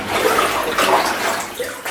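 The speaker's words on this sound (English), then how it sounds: "now that water is over my head" Deep water in a flooded lost gold mine sloshes and splashes continuously as someone wades through it, loud and close in an enclosed underground passage.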